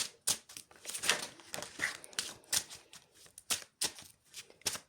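Playing cards are shuffled up close, with quick riffling bursts repeating in an irregular rhythm and no one talking.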